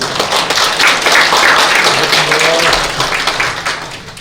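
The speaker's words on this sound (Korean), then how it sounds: "큰 박수로 부탁드립니다." A large audience at a political reform debate forum in Daegu applauds a National Assembly member being introduced. The clapping is loud and sustained, with voices mixed in, and it fades toward the end.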